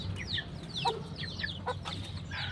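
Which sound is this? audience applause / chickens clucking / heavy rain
chickens clucking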